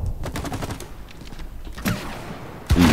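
Rapid gunfire bursts from the co-op video game It Takes Two, a quick run of sharp shots at the start, then scattered shots and a louder blast near the end.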